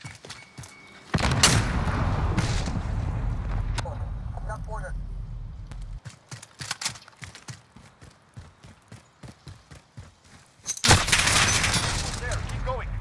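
A frag grenade goes off in the Call of Duty Modern Warfare shooter, a loud sharp blast with a long rumbling tail amid clattering gunfire and footsteps, and voices speak over the combat.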